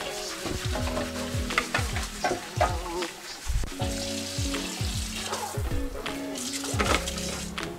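General Tso's chicken stir-frying in a wok over extremely high heat, loud continuous sizzling with repeated scraping and tossing of a metal spatula in an irregular rhythm, close up.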